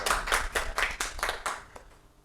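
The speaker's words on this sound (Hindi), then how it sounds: "इस बात पे तालियां बजनी चाहिए।" A handful of people clap at an icon-meet event in Rajasthan, a short burst of distinct, fairly close rhythmic claps that thins out and fades within about two seconds.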